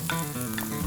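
Cumin seeds frying in butter for Mumbai-style pav bhaji, a steady close sizzle with a few brief crackles running through the whole short moment, no voices.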